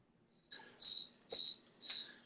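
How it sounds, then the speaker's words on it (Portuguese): A cricket chirps in three bright, evenly spaced pulses after a softer opening trill, close and clear against a quiet background. "Sabe esse grilo que tá tocando aí?"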